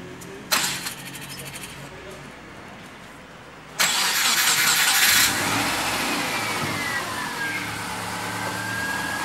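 A car fitted with an Atiker LPG system cranks and fires up on petrol after the ignition is switched on, a short click first, then a loud catch settling into a steady close idle; a voice speaks over it.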